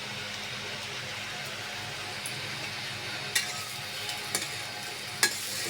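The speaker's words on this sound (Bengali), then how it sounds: "নেড়ে চেড়ে বাজিটা রান্না করে নেব" A fish and vegetable bhaji fries in a pan with a steady low sizzle, while a spatula stirs it and a few sharp metallic clinks ring out near the end. No one speaks.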